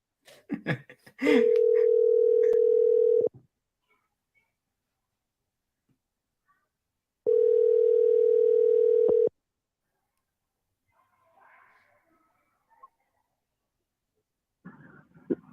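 A telephone dial tone sounds twice while a call is placed, each a steady loud two-second hum separated by quiet, with brief faint noises between and at the start and end, no talking.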